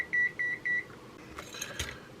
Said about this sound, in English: Multimeter beeping